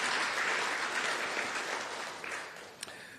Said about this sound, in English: So Hendrik, I think we can all give a round of applause for all the work that you put in.